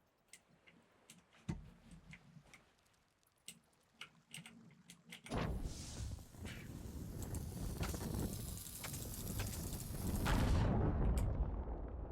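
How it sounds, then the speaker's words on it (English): Heavy rumbling explosion in the video game Sea of Thieves, a few sharp ticks and thuds at first, then a loud sustained roar that swells and rumbles for several seconds. "Big explosion. Those things go boom and really big boom."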